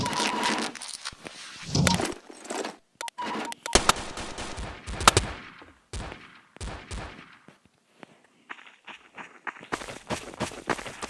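Video game weapons firing in rapid bursts and single shots, loud and close, with sharp cracks and automatic volleys separated by short pauses and footstep-like clatter.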